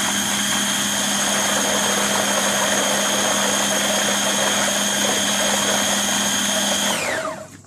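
Kitchen blender motor grinding a healthy homemade Nutella-style spread, a loud steady whine with strong harmonic tones running nonstop, then winding down abruptly as it switches off near the end.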